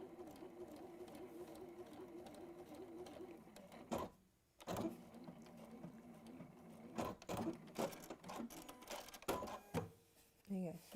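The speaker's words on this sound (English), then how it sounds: "just sew straight across there like that" A sewing machine stitches a straight line across fabric in several short bursts with pauses between, while someone talks over it.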